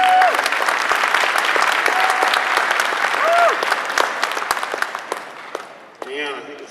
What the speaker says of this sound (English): I believe it's time to go ahead with your applause.